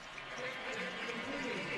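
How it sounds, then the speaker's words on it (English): Monarch fans cheer and applaud at a college football game between VMI and Old Dominion, a faint, distant crowd wash under a voice talking. "Some of the Monarch fans cheering for the effort for VMI"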